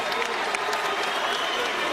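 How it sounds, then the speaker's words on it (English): A large boxing crowd applauds and cheers loudly after a heavyweight title fight, a continuous roar of clapping and voices. "can we give a round of applause for Andy Ruiz, the new heavyweight champion?"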